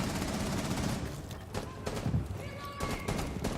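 Sharp gunshots crack in a Rainbow Six Siege tournament match as a window is broken open, a few quick bursts at moderate distance, partly under a commentator's voice and game noise.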